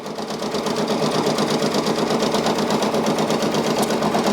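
A Brother Persona PRS 100 embroidery machine stitches out a design, a steady, fast mechanical rattle with an even rhythm that holds at constant loudness throughout, close up and without speech.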